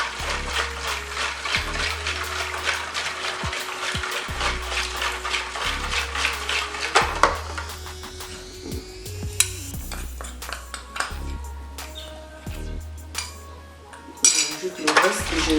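Spoon clinking and scraping against a bowl while colorant is mixed into a Congolese ice cream (sky) mixture, steady close-up stirring with repeated metallic clinks and occasional louder knocks, no talking.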